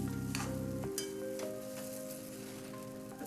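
Sabudana khichdi is stirred and mixed in a hot pan, with a steady sizzle of frying and a spoon scraping through it, close and continuous, with a faint tone humming in the background and nobody speaking.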